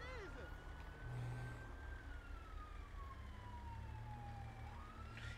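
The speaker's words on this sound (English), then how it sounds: "Lights and sirens is coming." A police siren wails in a GTA 5 roleplay game, a sweeping tone rising and falling steadily for several seconds over a continuous low engine rumble, with faint talk underneath.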